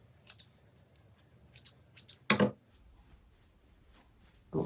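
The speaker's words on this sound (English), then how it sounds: "maybe on this one I'll just trim it" Scissors trimming a tulle pom pom: several short snips and rustles scattered through, one louder crisp cut near the middle and another at the end, close and otherwise quiet.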